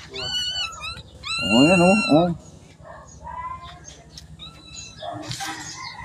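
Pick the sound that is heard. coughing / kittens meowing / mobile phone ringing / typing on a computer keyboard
kittens meowing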